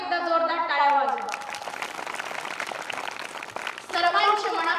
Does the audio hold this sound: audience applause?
yes